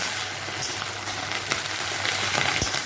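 A spice paste frying in hot oil while being stirred, a steady dense sizzle with occasional scraping strokes of the spoon, close and continuous throughout.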